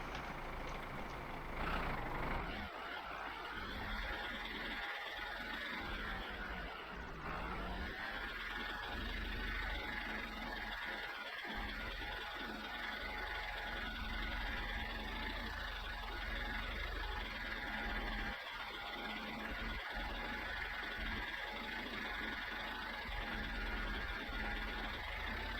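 Tractor engine in the video game My Summer Car, set in Finland, running steadily with a low continuous rumble and droning mechanical tone throughout, with no speech.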